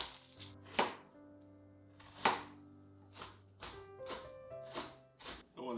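A knife chops through an onion on a board in a few sharp, spaced strokes. Steady background music plays underneath.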